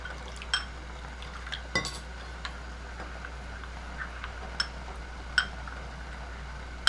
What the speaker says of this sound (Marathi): आता आपण कॉर्नफ्लॉअरची स्लरी करून घेऊया त्याच्यासाठी मी एक चमचा कॉर्नफ्लॉवर घालते आणि थोडंसं पाणी घालायचं आपल्याला